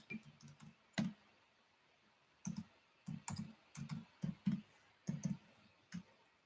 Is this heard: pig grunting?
no